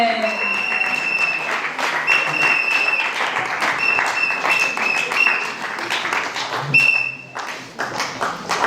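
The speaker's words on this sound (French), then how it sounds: "Acclamez, continuez d'acclamer le Seigneur." A church congregation claps and applauds continuously, with a voice talking over the clapping and faint ringing tones mixed in.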